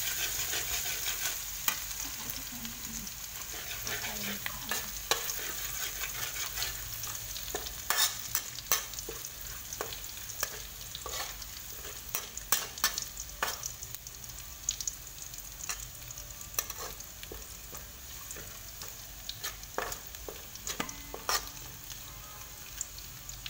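Garlic frying in pork fat in a pan for a Khmer noodle stir-fry with pork: a soft, steady sizzle under frequent sharp scraping clicks of a utensil stirring, fairly quiet and close.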